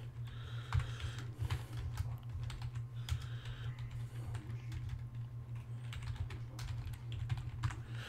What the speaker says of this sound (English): I have my mic in front of my keyboard, so it gets annoying to type.